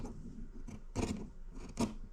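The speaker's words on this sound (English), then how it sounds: "Now I'm going to trim up all the excess." Scissors trim excess fabric from a quilted hexagon table runner, giving several short, crisp snips near the mic over a low background hum.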